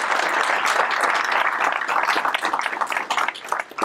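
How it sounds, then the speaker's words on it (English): An audience at a swearing-in ceremony applauds, a dense burst of clapping that stays full for a few seconds and then breaks up into scattered, uneven claps toward the end. "give a big round of applause to Debbie for everything she does to put this together"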